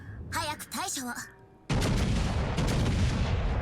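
Heavy naval gunfire from enemy warships in World of Warships Legends bursts in suddenly as a loud, dense roar of booms and rumble, following a stretch of voice-like game audio.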